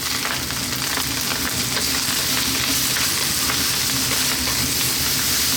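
Cauliflower rice frying in a hot pan gives off a loud, dense, unbroken sizzle and crackle, close by, with faint stirring mixed in throughout.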